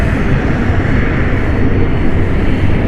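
Luxair airliner on its Luxembourg flight at London City Airport, its jet engines giving a steady, loud broadband roar that holds evenly throughout without voices.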